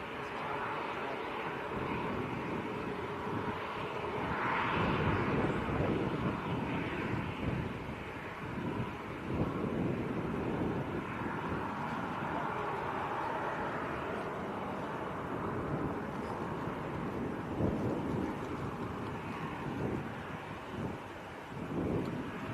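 Strong crosswind gusting across the open ground at Manchester Airport, a steady loud broadband roar with buffeting thumps against the microphone that runs through the whole stretch, with no clear voices.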